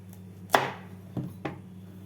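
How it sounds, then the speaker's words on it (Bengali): A knife cutting a large bottle gourd in half, a sharp crisp chop followed by two softer cuts against a board, close and distinct in a quiet kitchen. "লাউটাকে কেটে অর্ধেকটা আমি নিয়ে নেবো"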